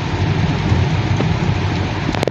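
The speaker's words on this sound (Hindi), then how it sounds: "बारिश बहुत तेज हो रही है" Heavy rain pouring down during a mountain drive from Tezpur toward Tawang, a dense continuous hiss of drops drumming on the car, loud and steady, with a couple of sharp knocks near the end.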